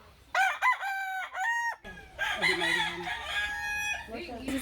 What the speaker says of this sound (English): This is all our chickens